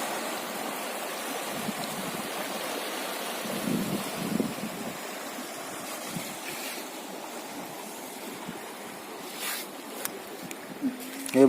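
Swollen flood water rushing beneath a bridge at Shikhar Ghat during rain gives a steady, broad roar, with brief voices and small bumps near the end.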